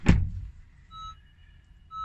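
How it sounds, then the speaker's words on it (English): A single solid thunk of a Honda car door shutting, followed by a couple of soft electronic chime tones in a quiet space. "and shut the door."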